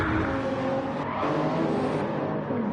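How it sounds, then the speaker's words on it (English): Tyres squealing steadily on a GT3 car in a sim racing championship at Circuit de la Sarthe, near the Mulsanne chicanes, over a continuous engine roar with no pauses. "you can hear from the tyre squealing that Superboy is pushing hard"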